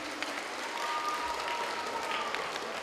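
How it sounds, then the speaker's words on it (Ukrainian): Audience applause at a welcoming event honoring sponsors of a children's tournament, a soft, even wash of many hands clapping heard from a distance, fairly quiet and sustained. "Ваші оплески."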